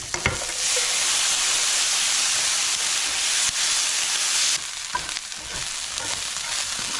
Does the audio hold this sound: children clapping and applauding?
no